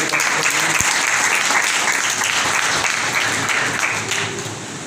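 A church congregation at a Palm Sunday service bursts into loud, sustained applause, a dense crackle of many hands clapping together that fades slightly toward the end.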